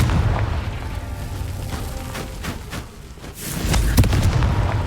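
Confringo fire spells blast in the Hogwarts Legacy video game, sending rumbling booms and sharp crackling bursts through a dense, loud stretch of in-game combat.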